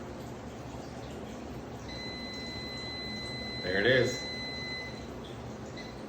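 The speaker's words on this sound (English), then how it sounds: "our timer's about to go off on the oven right now" An oven timer sounds from about two seconds on as a steady two-tone electronic beep, held for several seconds at moderate loudness over room noise, with a person briefly speaking near the end.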